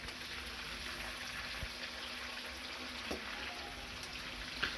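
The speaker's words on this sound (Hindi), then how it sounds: "तेल में ही हम टमाटर को फ्राई करेंगे।" Tomatoes frying in oil in a karahi for Peshawari chicken karahi, a steady close sizzle with a soft bubbling crackle that holds even throughout, with a few faint clicks and taps.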